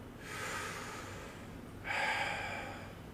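Two deep breaths, a long inhale then a stronger exhale, drawn close and clear during a yoga pose in an agility workout for athletes, with no talking.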